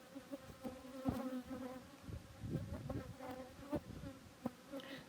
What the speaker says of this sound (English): There's just a few bees on here.